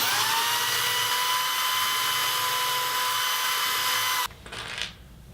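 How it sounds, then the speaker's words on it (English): A corded power drill with a 1/8-inch bit pre-drilling wood whines steadily at high speed for about four seconds, then cuts off and winds down briefly. "I have my corded drill with an 1/8 inch drill bit to pre-drill through here"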